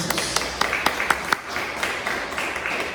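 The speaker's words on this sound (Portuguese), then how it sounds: "Pode aplaudir Jesus." A church congregation applauding during a healing and deliverance service, a moderate wash of claps with some sharper individual hits, mixed with faint voices.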